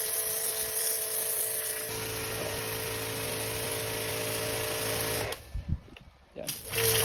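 A Soarfly pressure washer sprays with a steady, loud motorized whine and hiss that runs continuously for about five seconds before cutting out, followed by brief clatter and handling noises as it restarts.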